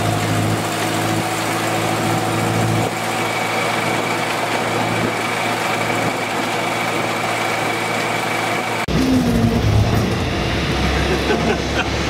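Engine of a vintage Series 1 Land Rover classic droning steadily while driving, a constant close rumble with a shift in tone near the end and people talking faintly over it.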